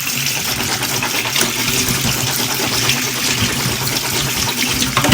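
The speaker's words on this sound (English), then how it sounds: "rinse and drain about 6 cans of black beans. Rinse them really well" Tap water runs steadily over about six cans' worth of canned black beans being rinsed and drained for veggie chili, a constant loud close gush with no talk.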